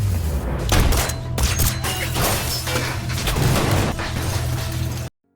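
A gunfight in a crime film: dense bursts of gunfire with crashes and impacts, loud and continuous for about five seconds before cutting off abruptly.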